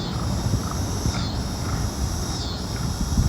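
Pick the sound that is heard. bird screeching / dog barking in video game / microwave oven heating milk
bird screeching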